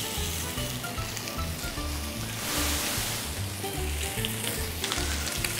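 Beef hits a hot, lightly oiled pan over low heat for Italian-style sliced grilled beef, sizzling loudly and continuously up close, with the frying swelling briefly midway.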